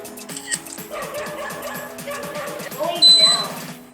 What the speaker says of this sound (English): Pretty loud doggy